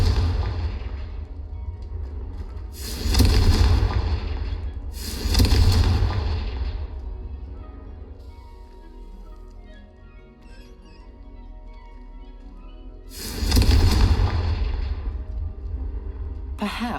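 Fiery Confringo spell blasts in Hogwarts Legacy, three loud broadband bursts, two close together early on and a third later, each booming then fading over a steady background hum.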